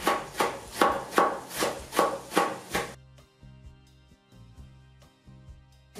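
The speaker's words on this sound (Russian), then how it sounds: "Можно капусту нарезать кубиком. Я нарезаю соломкой и потоньше." A knife rhythmically chops cabbage into thin strips on a board, about eight steady close strokes, then stops and gives way to quieter scattered kitchen knocks.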